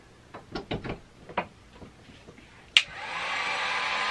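A Harbor Freight Warrior heat gun is switched on after a few clicks and handling knocks, then runs with a steady, loud blowing hiss of its fan until the end.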